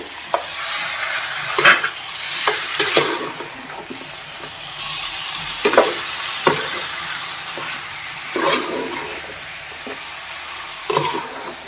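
Onions, tomato, ginger and garlic sauté in a pan for a country chicken curry: a steady oily sizzle runs throughout, broken by sharp, irregular scrapes and knocks of a spatula stirring against the pan.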